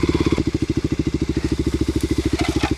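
A Kawasaki KLX250sf dual-sport motorcycle engine thumps steadily while riding, a loud close single-cylinder pulse at an even rapid rhythm throughout, with some wind rush late.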